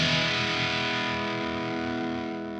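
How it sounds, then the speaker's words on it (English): An electric guitar played through a Voland Rusty Boi distortion pedal rings out as one sustained, heavily distorted chord, bright and saturated, fading gradually with no talking. "can get this incredible mixture of both warm distortion and bright, angry, jagged distortion."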